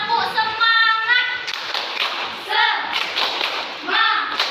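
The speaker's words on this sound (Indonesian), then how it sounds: "Biar semangat, ayo kita tepuk semangat." A fourth-grade class stands and claps a rhythmic tepuk semangat chant led by the teacher, with bursts of patterned clapping and thumps alternating with children's chanting voices in a classroom.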